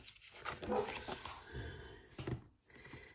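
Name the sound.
dog barking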